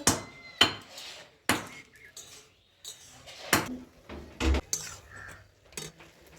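A lid set onto a cooking pot of boiling cauliflower, a series of sharp metallic clanks and knocks, several separate hits spaced over a few seconds in a quiet kitchen.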